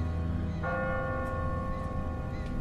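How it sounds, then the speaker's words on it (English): A church bell tolls in The Walking Dead video game, one resonant strike ringing out with a long sustained hum, loud and alone with no talk. "Ask not for whom the bell tolls."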